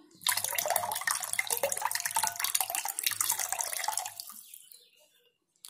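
Water pours steadily into a pot for betel leaf rasam, a close splashing gush lasting about four seconds before it tapers off and stops.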